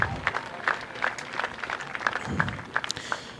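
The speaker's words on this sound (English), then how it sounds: "Let's have another round of applause" A crowd claps steadily in scattered applause, heard from a moderate distance.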